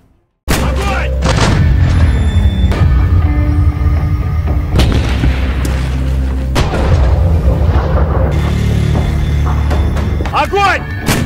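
D-30 howitzer artillery firing in a war film scene: loud booming blasts over a dense, sustained roar of battle sound, with heavy thumps and rumbling low end and a burst of rapid cracks near the end.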